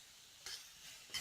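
Food stirred with sherry in a pan, a soft continuous sizzle broken by two short scraping swishes of the spoon, close and quiet with no talking.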